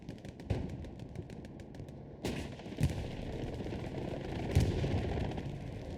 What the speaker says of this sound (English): Getting one kill with that strafing run there.